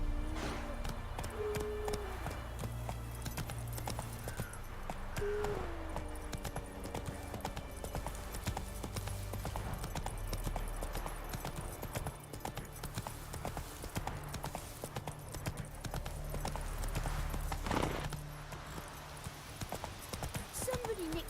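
The Witcher 3 horse Roach clip-clopping steadily at close range over a low game backdrop, with someone talking at times and a brief louder burst of noise partway through.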